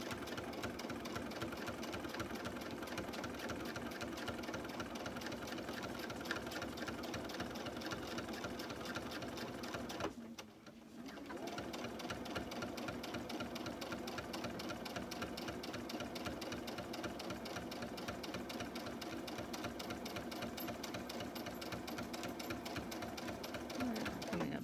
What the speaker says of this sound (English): I'm just going to sew over the stitches that have already been sewn